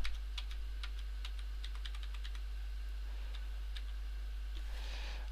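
Rapid clicking keystrokes on a computer keyboard, a quick irregular run of taps close to the mic that slows and spreads out toward the end, with no voices.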